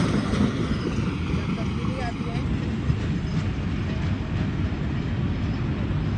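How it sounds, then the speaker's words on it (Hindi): A passing train rumbles steadily and loudly, heavy low-end noise with wind buffeting the microphone, continuous throughout without a clear rise or fade. "तो रेलगाड़ी भी आ रही थी, इधर से आई थी, ये देखें इधर चली गई"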